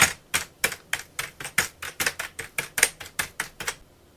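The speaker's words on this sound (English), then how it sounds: "I was banging on the keyboard, and I kind of cocked up the podcast a bit." Someone bangs hard on a computer keyboard in a dozen or so sharp, separate clattering strikes at an uneven but brisk pace, close and loud, with no voice.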